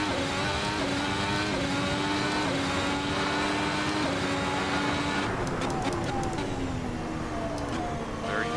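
A race car in Assetto Corsa on the tight Vietnam Grand Prix street circuit, engine screaming loud and steady with rising pitch sweeps through gear changes as it accelerates, close and continuous.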